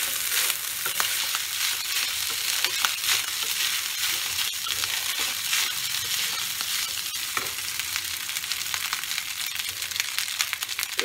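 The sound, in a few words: onions frying in oil for fried rice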